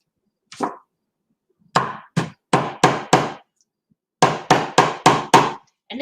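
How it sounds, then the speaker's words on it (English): Small hammer tapping tiny nails into a DIY wooden picture frame: one light tap, a pause, then two quick bursts of four or five crisp, close, evenly spaced knocks. "that's what's really nice about a hammer like this when you have those tiny little nails"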